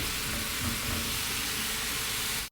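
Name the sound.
food browning in a pan while cooking lemon rice soup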